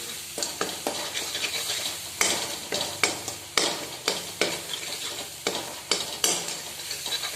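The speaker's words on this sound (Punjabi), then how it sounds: "ਚੰਗੀ ਤਰ੍ਹਾਂ ਮਿਕਸ ਕਰਕੇ ਭੁੰਨ ਲਾਂਗੇ ਜੀ ਮਸਾਲਿਆਂ ਨੂੰ ਵੀ" Spices stir-fried in a pan for a chickpea curry, a continuous sizzle punctuated by regular, sharp spatula scrapes and taps against the pan, close and moderately loud, with no speech.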